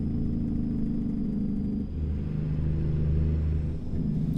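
A Kenworth W900 truck engine in American Truck Simulator, fitted with a modded engine option and aftermarket sound pack, drones with a steady low rumble throughout and shifts slightly in pitch partway through, with no talk.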